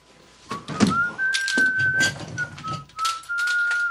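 A light, steady whistled tune for an audiobook, a thin clear tone holding and shifting pitch over soft thumps and faint background movement, fairly quiet and close.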